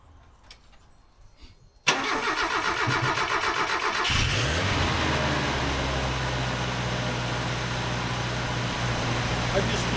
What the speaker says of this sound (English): Guess we'll start the truck and see what happens.